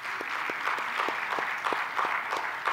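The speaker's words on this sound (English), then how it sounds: "Can we involve a round of applause for these young men?" An audience applauds young men called up on stage at an education event, with dense, loud clapping sustained throughout and a slightly rhythmic, pulsing pattern.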